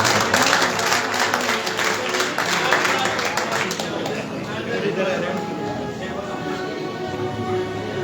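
A seated crowd claps at a religious discourse, loud and dense at first and then thinning into scattered claps and murmured chatter as the applause fades.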